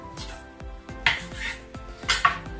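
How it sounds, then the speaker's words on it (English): A knife slices a third of a piece of beef into four steaks on a cutting board, giving a run of dull, evenly spaced thuds with a few sharper scraping strokes, close and moderately loud. "I'm going to take one of those thirds and I'm going to cut that into four steaks"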